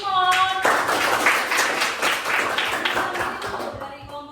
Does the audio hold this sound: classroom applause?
yes